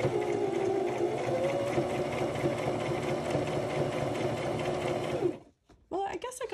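A sewing machine stitching a handmade journal cover runs in a fast, steady whir close by, then stops abruptly near the end, when a person starts speaking.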